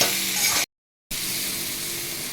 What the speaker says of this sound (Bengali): ভালো করে ডাঁটাটা আমি কষাবো তেলের মধ্যে